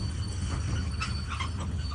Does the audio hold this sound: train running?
yes